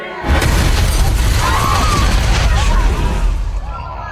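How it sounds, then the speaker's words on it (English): Bomb explosion in the TV series The Punisher: a sudden loud, close blast that opens into a sustained roaring rumble with debris and shattering, holding for several seconds before cutting off abruptly. "This is when the bomb goes off"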